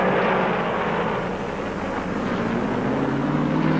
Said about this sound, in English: Glotzback, Baker, Petty, fuel up and change tires as Allison goes back to the track.